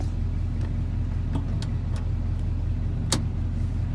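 A 1981 Chevrolet C10 pickup engine idles steadily while warming up, a continuous low rumble with a regular pulsing beat, broken by a few faint clicks and one sharp tick near the end.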